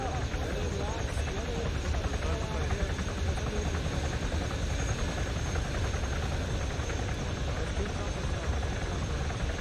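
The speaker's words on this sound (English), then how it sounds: "just get into a Chinook as fast as possible." A Chinook helicopter in a military video game drones continuously, a steady close rotor and engine roar at strong, even loudness, with players talking over it.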